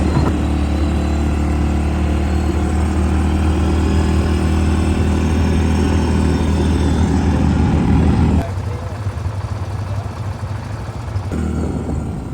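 A quad bike engine runs at a beach quad-biking outing at Nelson Bay, a loud steady motor drone with wind buffeting, dropping to a quieter idle near the end.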